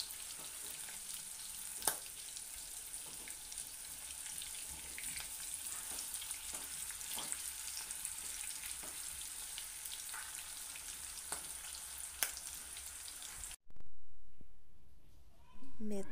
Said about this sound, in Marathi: मिरच्या आपल्या फ्राय करून तयार झाल्या आहेत।